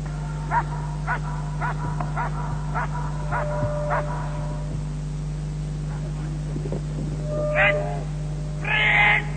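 A customs dog barks in a rapid series of sharp, moderately close barks over a steady low engine hum, then quieter yips and a couple of louder bursts near the end.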